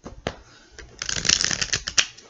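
A deck of tarot cards is shuffled by hand, with several crisp, riffling bursts of papery flutter close to the listener. Short pauses separate the shuffles, and no one speaks.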